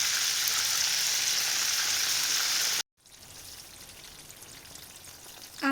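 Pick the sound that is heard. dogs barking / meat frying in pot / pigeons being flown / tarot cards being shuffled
meat frying in pot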